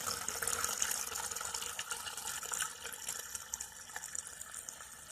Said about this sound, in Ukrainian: Наступним етапом ми додаємо 10 лимонної води.